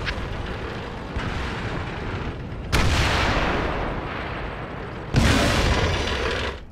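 Tank guns firing in World of Tanks during a clan wars battle, with two heavy booms a few seconds apart, each followed by a long rumbling decay over continuous low engine and battle noise.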